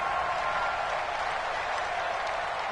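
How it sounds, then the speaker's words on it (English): A steady, dense crowd roar fills a domed stadium in a PS4 football video game. The noise holds at one level without pause and with no talk over it. "The crowd here in the Dome making things difficult."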